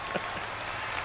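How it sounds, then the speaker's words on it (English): Crowd applause at a truck pulling finals event in Louisville, Kentucky, a dense, steady wash of many hands clapping for the winner, moderately distant and uniform throughout. "Let's give her a nice round of applause."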